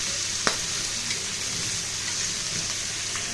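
Ilish fish coated in salt and turmeric sizzles in hot oil in a kadai, a close, continuous crackle and spatter with a few sharper pops.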